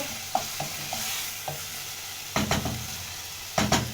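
Beef stew with peanut butter simmering and sizzling in a pot after a splash of water, a steady soft bubbling hiss broken by scattered stirring scrapes and clinks, fairly close and quiet.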